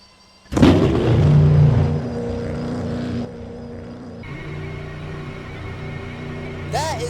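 Cadillac prototype race car in a racing video game at the Long Beach circuit, its engine roaring loud from a sudden onset, holding a steady drone that drops to a lower, quieter hum, with a brief rising whine near the end.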